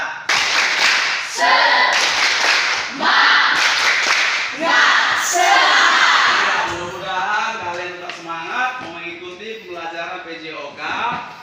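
A school class does a rhythmic spirit clap, tepuk semangat, with bursts of group clapping in a patterned beat mixed with chanting voices, then a single adult voice talking alone.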